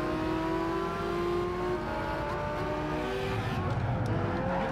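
Race car engines drone and whine through gear changes in Gran Turismo 5 while chasing a Lamborghini Murcielago, a steady loud blend of revving motors and tire noise with no talking.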